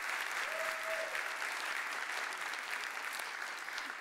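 Warm, steady applause from a summit audience fills the room, a dense continuous patter of many hands at even loudness throughout, with no voices rising above it.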